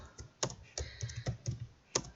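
Quick, irregular keystrokes on a computer keyboard while entering text into an Excel spreadsheet, with sharp close clicks in short uneven bursts and no talking.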